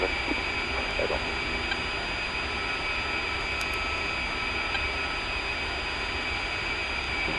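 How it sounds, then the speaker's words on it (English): Helicopter flying past in the DCS combat flight game, a steady loud rotor and turbine roar holding at an even level throughout with no distinct approach or fade. "Confirm the helicopter doing the flyby right now."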